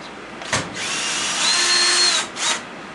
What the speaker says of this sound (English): I gotta get the screws out on that side.